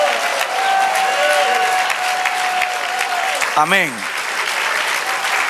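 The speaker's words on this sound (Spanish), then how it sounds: "Dale aplauso al Señor" A church congregation applauds, a dense, steady wash of clapping that fills the space throughout, with a single voice speaking briefly near the end.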